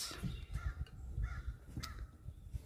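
Crows and ravens caw repeatedly outdoors in the morning, with harsh, uneven calls overlapping at moderate distance over a steady background.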